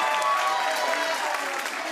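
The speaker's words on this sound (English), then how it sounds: "Y'all gonna clap on everything." An audience claps loudly and steadily for a guest at a live interview event, a dense, sustained wash of many hands with faint voices underneath.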